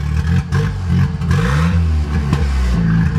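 A drift car's engine revs under throttle, loud and close, its pitch rising and falling in several surges over a rough, rumbling idle.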